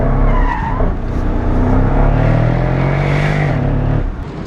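A 2016 Mercedes SL 63 AMG slows hard from speed, its tires squealing and the engine note falling under braking, close and loud for a few seconds before easing off at the end.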